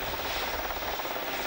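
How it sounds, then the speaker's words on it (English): A Westland Whirlwind search and rescue helicopter from RAF Valley rumbles steadily at an air show, a dense, continuous rotor and engine roar heard without voices. "This is a Westland Whirlwind from the search and rescue flight at RAF Valley in"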